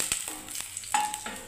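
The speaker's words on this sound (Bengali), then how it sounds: "তেলগুলো সব ছিটকে আসছে বাবা" Hot oil crackling and spattering in a pan as okra finishes frying, with a few sharp pops and soft hissing over a short, fairly quiet stretch.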